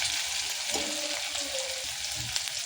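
Raw garlic roasts in a pan for a chana bhaji, with a steady dense sizzle and some light stirring scrapes throughout.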